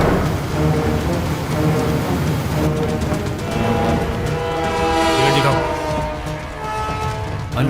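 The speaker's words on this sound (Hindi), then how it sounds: "सिग्नल रेड है, ट्रेन स्लो हो रही है" A train slowing at a red signal rumbles steadily with a dense low roar and metallic tones, the clatter easing as it slows, voices faintly mixed in.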